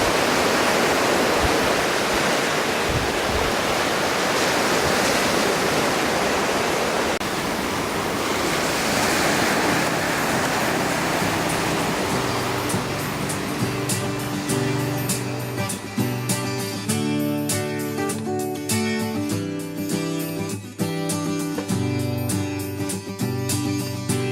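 Sea surf on the coast of Crete washes in a dense, loud roar that fills the first half, then fades beneath a steady layered tone in the later part.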